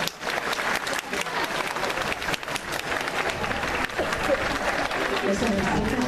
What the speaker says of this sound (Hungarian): Szeretném, hogy nagyon nagy tapsal köszönjük.